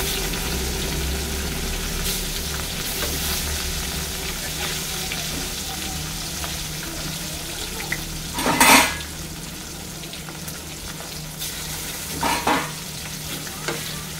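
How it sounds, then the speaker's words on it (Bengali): Pieces of fresh catla fish fry in hot oil in a pan, a constant close sizzle broken by two louder clatters of a spatula or utensil against the pan. "এবার মাছটা খুব বেশি ভাজবো না, হালকা ভাজা হলেই মাছটা নামিয়ে নেব।"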